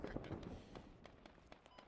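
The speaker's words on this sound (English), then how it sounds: "there's still plenty of gunfire coming from the insurgent side." Scattered gunshots crack from the insurgent side in the Squad video game, a loose string of sharp reports of varying distance over a rumbling battlefield bed.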